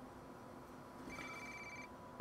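A phone ringtone chirps in the Watch Dogs video game, a brief faint electronic ring entering partway through over quiet game ambience.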